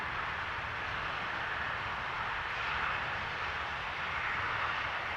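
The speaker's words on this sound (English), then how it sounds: "a 787-8 arriving from Curaçao from TUI coming in." A TUI Boeing 787-8 arriving at Amsterdam Schiphol from Curaçao produces a faint, steady broadband jet roar in the distance, holding at an even level with no voices over it.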